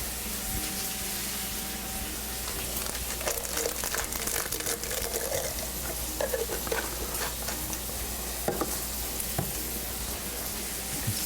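Food with two bay leaves cooking in a cast iron skillet, a steady low sizzle broken by scraping stirs and light rustling throughout, close and moderately loud with no talking.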